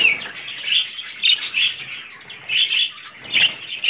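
Budgerigar chicks chirp in repeated bright bursts close by, with faint light cracking and scuffling from seed eating between the calls and no talk.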